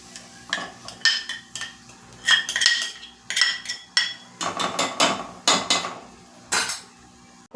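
A metal spoon mixes yogurt paste with water in a bowl for shahi bhindi masala, giving a quick uneven run of sharp clinks and scrapes against the sides, close and loud with no talking.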